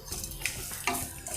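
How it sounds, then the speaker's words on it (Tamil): Grated coconut roasts in a pan, with a short stretch of dry scraping and stirring strokes over a faint sizzle and a couple of light utensil knocks. "நல்லா தேங்காய் கொஞ்சம் கலர் மாறுற வரைக்கும் நல்லா வறுத்தணும்லாம்"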